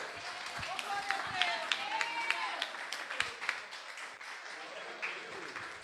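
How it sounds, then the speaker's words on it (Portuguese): Church congregation applauding during a sermon: faint, scattered clapping from a room of worshippers, with a voice speaking over the claps for most of the stretch. "Vocês podem aplaudir, não a nós, mas aplauda o Senhor"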